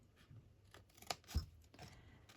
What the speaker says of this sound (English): I'm just going to snip a bit more off there so that they don't crash into each other